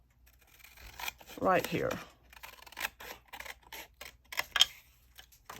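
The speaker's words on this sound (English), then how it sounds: "I'm gonna take my scissors and I'm gonna cut these little pieces off like this" Scissors snip small pieces off paper for a scrappy accordion folder, giving several crisp cuts and rustling handling noises close up, mixed with a voice speaking briefly.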